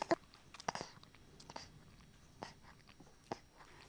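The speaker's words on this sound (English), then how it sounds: "you can actually hear him sucking. Can you hear the actual swallowing as well of the milk?" A nursing baby sucks and swallows milk at the breast, heard as soft, close, irregular wet clicks and gulps spaced across a quiet room.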